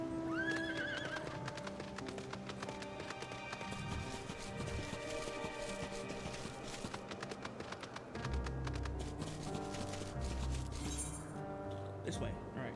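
In the Final Fantasy XIV video game, a horse's hooves clip-clop rhythmically beneath game music, and the horse gives a clear neigh. A voice talks over the scene.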